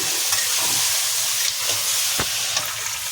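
Chillies and onions frying together in a pan as the base of a butter chicken gravy, a dense, continuous loud sizzle with occasional stirring scrapes and pops, heard close with no talking.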